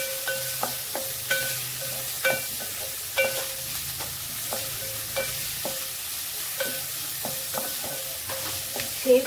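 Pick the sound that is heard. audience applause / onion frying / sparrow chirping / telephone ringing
onion frying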